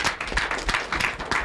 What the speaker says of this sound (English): Look, we clap for police.